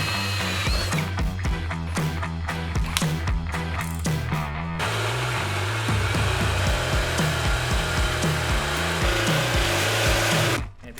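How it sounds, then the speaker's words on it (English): A power drill bores into material in short bursts, stopping and starting, then holding one long continuous grinding run before cutting off. "And now we'll drill those holes."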